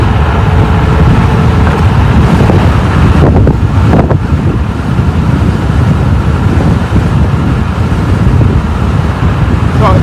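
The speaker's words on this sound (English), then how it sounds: "Let's see what the top speed in first gear is" A 72-volt iScooter DX5 Pro electric scooter accelerates in first gear, buried in loud, continuous wind buffeting and road rumble at the microphone.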